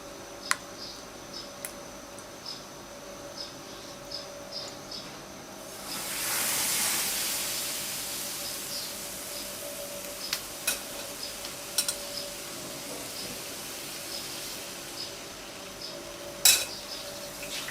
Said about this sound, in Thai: เราไปนาบกับกระทะกันนะคะในกระทะนะคะแล้วก็เอาฝาปิดไว้ค่ะ